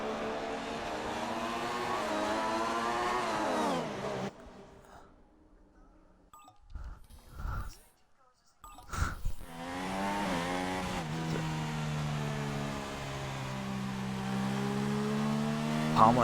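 Formula 1 car engines in the racing game F1 2016, high-pitched wailing revs rising and falling as cars pass, cutting out briefly into a quieter gap with thumps before the loud engine whine returns and holds steady.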